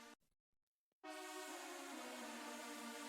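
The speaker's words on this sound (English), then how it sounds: "Church organ." A keyboard church organ patch enters abruptly after brief sounds and silence, a bright sustained chord with a small change partway through, held steady and alone.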